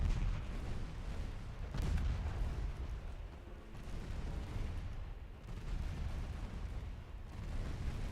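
Warship naval guns firing armor-piercing shells in the Ultimate Admiral Dreadnoughts game, a continuous low rumble of distant cannon fire with several heavier booms rolling in at intervals.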